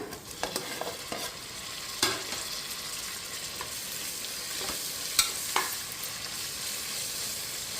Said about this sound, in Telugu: మనం టమాటా యాడ్ చేసేద్దాం.